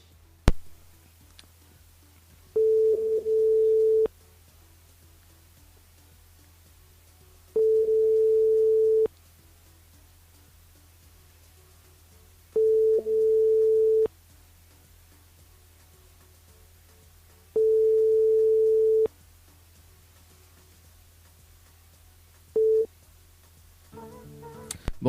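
Repeated telephone ringing tones sound while a radio show calls a listener, five evenly spaced steady beeps over a low constant hum, with a final short tone cut off at the end.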